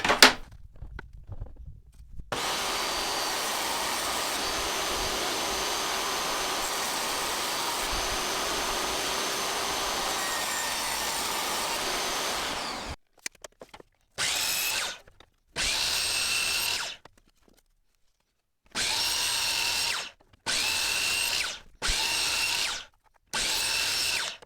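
A power tool cuts wood pieces for a dice box, running in one long continuous stretch and then in a series of shorter, separate bursts close by.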